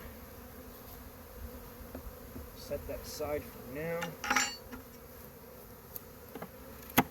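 Stressed honeybees buzz around open hives in a bee yard as frames are handled, thin buzzing passes rising and falling near the microphone alongside faint knocks, with brief speech.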